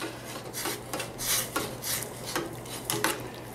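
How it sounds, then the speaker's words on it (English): A spoon stirs a pot of 16 bean stew seasoned with beef bouillon, making soft repeated scraping and rubbing strokes against the pot in an even rhythm, close up and with no talking. "I'm going to stir this up."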